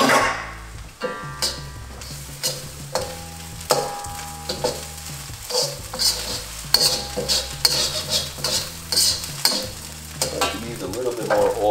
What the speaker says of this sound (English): Now you just want to keep stirring this so it doesn't stick to the bottom